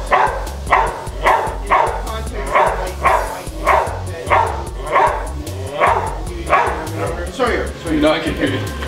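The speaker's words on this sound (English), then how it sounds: "You just want to bark at somebody, don't you?" A border collie barks over and over in an energetic, steady rhythm, loud and close, with a few yips mixed in while people talk nearby.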